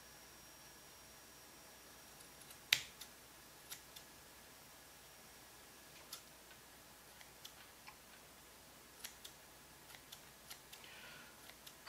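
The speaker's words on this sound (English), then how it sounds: "And then just trim it, it's just like giving it a haircut." Scissors trim a yarn pom-pom made on a clover leaf pom pom maker, giving quiet, irregular snips spaced a second or so apart, with one louder click early on.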